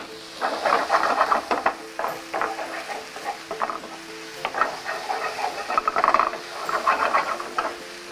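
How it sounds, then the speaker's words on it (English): Half an onion's worth of chopped onions frying in a pan for burritos, giving a loud continuous sizzle broken by bursts of stirring and scraping, close up with no talking. "So I'm going to put half an onion's worth of onions in here. And we're going to fry all that lot off."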